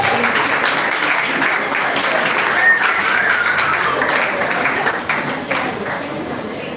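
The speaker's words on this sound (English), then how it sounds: "With a clapping ovation, I want you to welcome Mr." An audience at a seminar and foundation launch gives sustained, dense applause welcoming a speaker, steady for several seconds before thinning out, with some voices mixed in.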